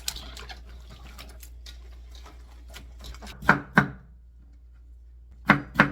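A knife chops radish into thin strips for white kimchi. A run of quick, light, close taps comes first, then a few louder, separate cuts after a short pause.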